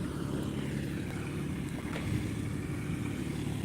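Tractor driving through a rice paddy field, a steady low engine drone running continuously without pauses, heard from a moderate distance outdoors.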